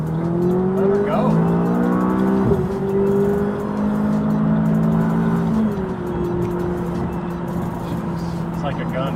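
A McLaren 570S sports car accelerates hard from inside the cabin, its engine note climbing and stepping through gear changes. The engine is loud and close, with people talking over it.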